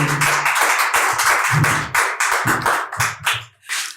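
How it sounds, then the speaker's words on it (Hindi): A small audience at a poetry gathering claps to welcome a poet, close and uneven bursts of hand claps rising and dipping in a loose rhythm before fading out near the end. "एक बार जोरदार ताली बजाए सीता जी को"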